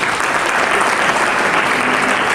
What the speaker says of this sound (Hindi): एक बार ताली बजा।